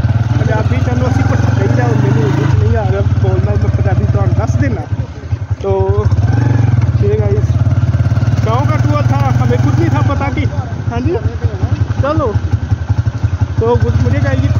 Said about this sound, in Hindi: फिर से मोटरसाइकिल बैठ चुके हैं